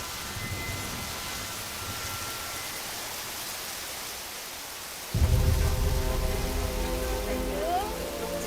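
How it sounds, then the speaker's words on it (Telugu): Steady rain falls in a film scene, a constant hiss of drops on surfaces that swells to a heavier, louder downpour partway through, with no talking. "ఈ వాన ఒకటి."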